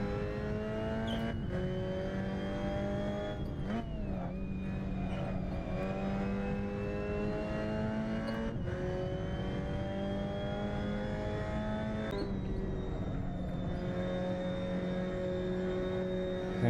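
A Formula Ford race car engine in a racing video game drones loudly and continuously at high revs. Its pitch climbs and drops sharply at several gear changes, and no talk is heard over it.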